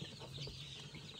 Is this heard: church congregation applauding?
no